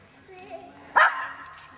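A dog at a lookout tower gives one sharp, loud bark in the middle of a short stretch, with fainter sounds and murmuring voices around it.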